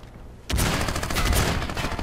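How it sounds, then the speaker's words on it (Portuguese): A sudden burst of rapid gunfire from the video game Crysis erupts and keeps going, dense and loud, after a brief quiet moment. "Eu dei dois tiros no peito dele."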